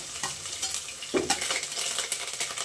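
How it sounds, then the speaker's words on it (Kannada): Ginger frying in a pan while being stirred, a close sizzle broken by soft scraping strokes of a spoon at an uneven rhythm, fairly quiet and without speech. "ಜಿಂಜರ್ ಹಾಕ್ಕೊಂಡಿದ್ದೀನಿ ಸ್ವಲ್ಪ ಫ್ರೈ ಮಾಡ್ಕೊಳ್ಳೋಣ ಒಂದು ಐದು ನಿಮಿಷ ಫ್ರೈ ಮಾಡ್ಕೊಬೇಕು"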